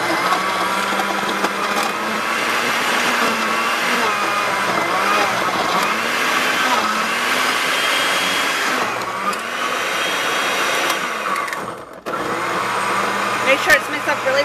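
A household blender whirs steadily as it mixes a smoothie at home, its motor a loud continuous drone that changes pitch slightly as the contents churn, then briefly cuts out before restarting near the end.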